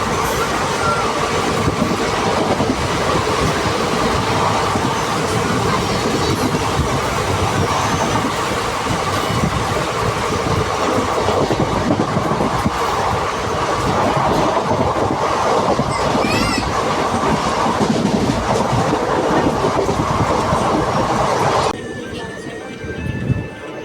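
The 17644 Kakinada–Chengalpattu Circar Express runs steadily on the rails near Bhimavaram, a loud continuous rumble and wheel clatter close by that drops off sharply near the end.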